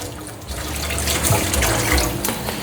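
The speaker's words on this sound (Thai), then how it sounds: "เติมน้ำลงไปเลยครับ" Water is poured into a cooking pot while making Thai rad na with kale and seafood, a steady, close splashing gush that runs continuously and grows slightly fuller as the pot fills.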